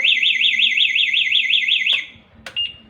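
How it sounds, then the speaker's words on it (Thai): A motorbike anti-theft alarm wails with a loud, rapidly warbling electronic tone for about two seconds, then cuts off, followed by a brief chirp and a short beep. "ถ้ากันขโมยทำงานมันจะดัง ติดติดยาวๆนี่คือกันขโมยจะทำงาน"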